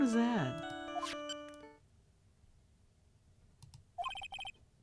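A phone ringtone from the Phoenix Wright: Ace Attorney video game plays as a bright electronic melody with gliding tones, pauses, then returns in short repeated beeping bursts, close and clear.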